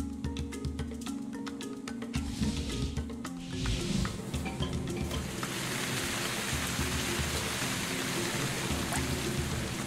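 Steady rain patters and hisses in the video game Quench, with scattered clicks early on before the downpour settles into a dense, even wash.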